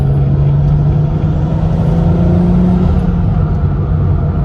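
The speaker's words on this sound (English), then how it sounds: "I'm going to show you just kind of what a rip sounds like in the top mount." A BMW 340i with a B58 engine and a top-mount turbo accelerates hard, giving a loud, steady engine roar with a rising drone that holds strong throughout, with no talking.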